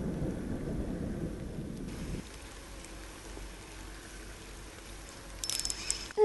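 Rain falls steadily from a summer thunderstorm near a lake shore while the low rumble of thunder rolls off and fades, leaving quieter patter and a few small clicks at the end.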